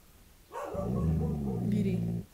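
A pet dog gives one drawn-out, whiny bark-like vocalisation lasting well over a second, close and fairly loud in a quiet room.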